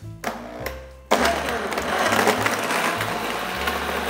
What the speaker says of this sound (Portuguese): Já batemos a nossa receita no liquidificador